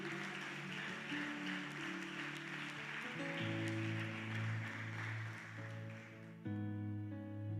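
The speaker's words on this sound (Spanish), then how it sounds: "Dele palmas a aquel que vive." A church congregation claps steadily during a worship service, a dense, faint patter of many hands running under sustained keyboard chords, with no voices standing out.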